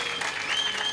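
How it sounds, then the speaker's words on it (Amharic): Church congregation clapping in applause, a steady dense wash of many hands sustained evenly throughout, with no speech over it. "አጨብጭቡለት አጨብጭቡለት"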